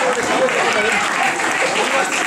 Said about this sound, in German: Klatschen! Yeah. Applaus, Applaus,